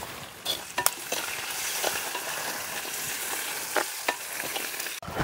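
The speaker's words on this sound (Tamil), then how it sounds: "இப்போ பார்த்தீங்கன்னா வெங்காயம் பச்சைமிளகாயெல்லாம் நல்லா வதங்கிட்டு" Onions and green chillies frying and being stirred in a pan during a village home cooking session; a steady close sizzle with intermittent scraping stir strokes and light clinks, no voices.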